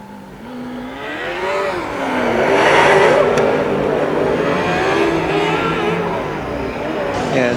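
Formula Student race cars at the FSG 2017 endurance event rev and accelerate along the track, a loud, continuous engine whine rising and falling through gear changes, with commentators talking over it throughout.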